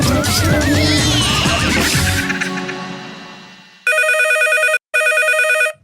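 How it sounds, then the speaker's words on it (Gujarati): A jingle fades out, then a telephone rings loudly in two electronic bursts with a short gap between them. "ફોન આવ્યો"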